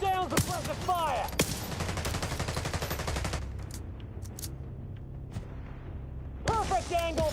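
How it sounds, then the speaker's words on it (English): Rapid sustained gunfire laying down suppressive fire in a mobile shooter game, dense repeated shots loud and close, giving way to a few sparse distant bursts, with voices talking over parts of it. "Laying down suppressive fire."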